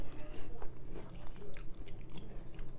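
Chocolate-covered Oreo cookies being bitten and chewed close to the mic, with repeated crisp crunches and wet mastication sounds in an irregular rhythm.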